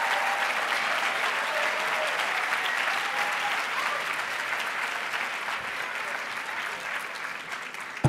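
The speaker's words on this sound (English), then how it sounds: "please give her a round of applause as she comes to the stage today" An audience at a live speaking event applauds steadily as a speaker walks to the stage, a broad, even wash of clapping that stays loud throughout and ends with a sharp knock at the very end.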